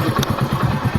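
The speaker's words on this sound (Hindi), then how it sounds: "रेस दे रहा है बाइक को।" A motorcycle engine is revved with its key in the ignition, a loud close mid-pitched throb pulsing rapidly and evenly, with no talk over it.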